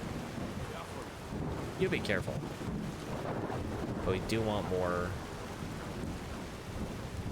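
Rain and rolling thunder in the video game Skyrim, a steady wash of rainfall with low rumbles underneath, partly covered by speech and game dialogue.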